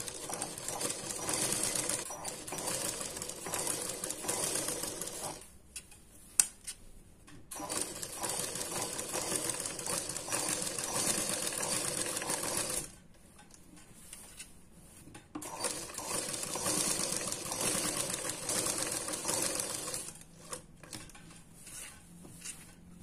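A sewing machine runs in long steady bursts, its rapid needle chatter stitching blouse fabric and lining beside canvas paper, stopping briefly twice before starting again, close and moderately loud.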